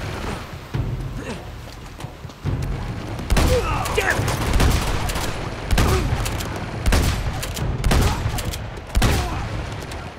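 Shotgun blasts ring out in Uncharted 2: Among Thieves, a series of loud, sharp bursts spaced a second or two apart over steady background noise, with a voice talking at times.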